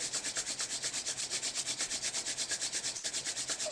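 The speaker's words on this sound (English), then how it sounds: "Rub the palms one more time." Palms rub briskly together during a yoga session: a close, steady swishing rhythm of about twenty even back-and-forth strokes with no talking.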